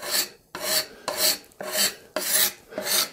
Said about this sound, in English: I can just come in with a card scraper and very slowly and carefully remove that little edge.